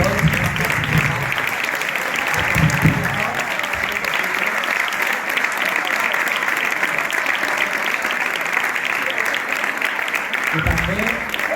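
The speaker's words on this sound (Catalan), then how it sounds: "m'agradaria que donar un fort aplaudiment" Audience at a secondary-school spring concert gives a long, sustained round of applause that fills the hall evenly, with brief murmurs of voices near the beginning and end.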